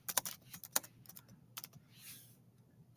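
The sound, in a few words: computer keyboard typing comment text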